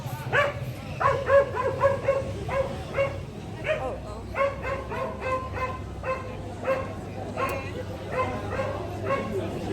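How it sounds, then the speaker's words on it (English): A stray dog barks repeatedly in quick, yappy bursts nearby on a street in Kadıköy, Istanbul, with rapid rhythmic yips over faint background noise. "the dog is following the other dog, that's why it keeps on barking"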